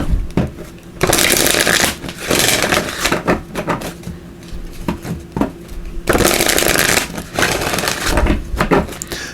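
Tarot cards from a divine guidance deck being shuffled by hand in repeated bursts of dense, crisp riffling and slapping, loud and close, with short quieter pauses between rounds.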